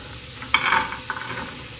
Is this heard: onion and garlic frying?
yes